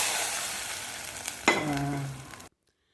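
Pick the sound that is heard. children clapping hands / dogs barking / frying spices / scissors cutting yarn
frying spices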